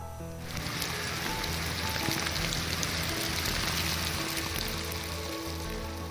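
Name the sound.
heavy rain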